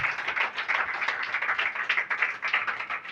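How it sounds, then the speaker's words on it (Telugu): A church congregation claps loudly together, a dense, steady wash of many hands filling the room without pause and with no voices over it. "అందరూ గట్టిగా చప్పట్లు కొట్టండి."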